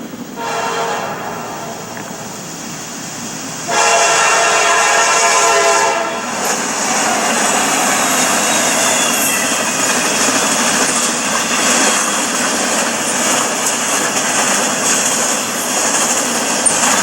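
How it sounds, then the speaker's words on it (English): A train horn blares loudly over the rumble of a train passing through downtown Suffolk, followed by a sustained roar of railcars rolling by close at hand. "Now trains are running this pace through downtown Suffolk."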